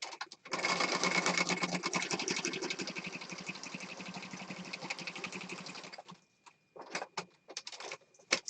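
A sewing machine stitches through paper in a rapid, even run of needle clicks for several seconds, then stops into scattered short bursts of stitching and handling noises, close and fairly quiet.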